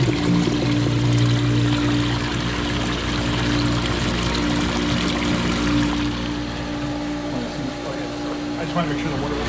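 Geothermal flush cart pushing water through a pond loop, a steady broadband rushing and gurgling of water and air in the pipes with a low hum, continuous and fairly loud for the whole span.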